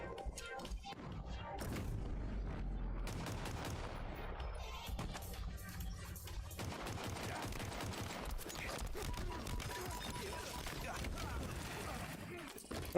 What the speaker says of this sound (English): I forgot how slow the bullets are from that gun